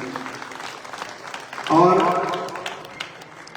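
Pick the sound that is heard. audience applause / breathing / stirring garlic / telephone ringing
audience applause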